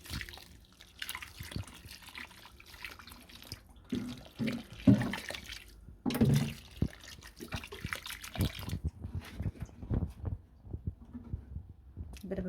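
Water poured from a can onto the fresh soil of a potted wisteria, irregular splashing and trickling bursts that come and go over several seconds, with quiet gaps between.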